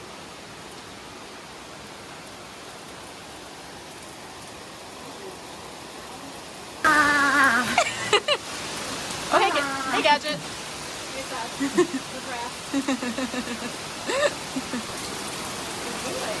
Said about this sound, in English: It's begun to hail.